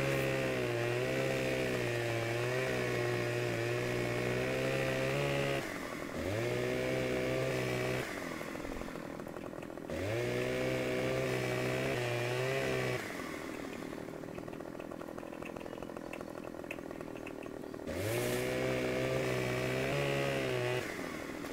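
A chainsaw in the farming video game Farming Simulator 15 revs in repeated bursts, its loud buzzing whine rising and falling several times between lower idling stretches, close and with no talk.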